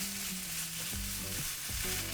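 Red pepper, onion and mushrooms are stir-fried in a pan with doubanjiang, a steady quiet sizzle. Soft scrapes and clunks of the utensil break in now and then, with no voices.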